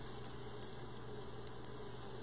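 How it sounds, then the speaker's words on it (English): Minced ginger and garlic sautéing in a pan, a steady low sizzle that stays faint and even throughout, with no voices. "So I'm just sauteing this."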